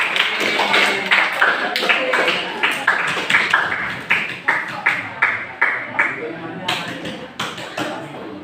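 Students in a school counselling lesson give a brief round of applause, rhythmic hand claps close by that thin out into scattered separate claps toward the end, with a voice talking over them.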